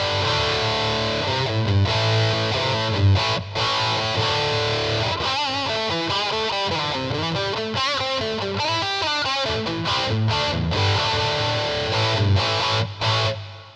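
Boss SE-70 multi-effects unit on a metal drive preset shapes a heavily distorted electric guitar riff, loud and steady with chugging low notes, quick melodic runs and brief pauses, no voices present.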